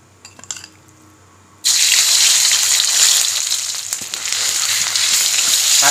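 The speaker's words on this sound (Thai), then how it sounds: "เราก็จะเอาพริกแกงเจาน้ำมันก่อนนะครับ" Curry paste drops into hot oil and bursts into a loud, steady frying sizzle after a quiet start with a few light knocks.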